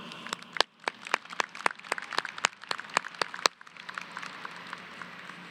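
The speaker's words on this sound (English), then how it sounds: "giving them a very loud round of applause" A graduation audience in a large hall claps, heard as a series of sharp, regular claps. They fade into a softer, diffuse wash of applause toward the end, at a moderate distance.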